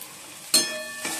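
Crushed garlic hits hot oil with frying onions, a sudden crackling sizzle that flares and then settles into a steady fry, with a second small flare near the end.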